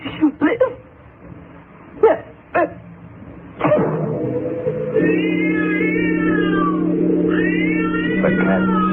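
A cat meows in a radio drama about a wall tomb, with sustained tonal meow-like cries after a few sharp yelps early on, close and clear over a steady low drone.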